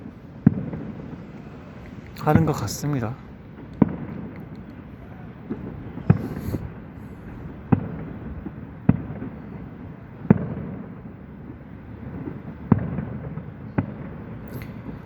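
Fireworks pop at a distance over Yeouido, heard from a rooftop, a series of sharp bangs spaced every second or so, with a person speaking quietly in between.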